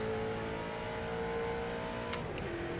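A street stock race car in the iRacing game at Phoenix has its engine pulling hard after an upshift into third. The steady, buzzing drone holds its pitch, with a brief high click near the end.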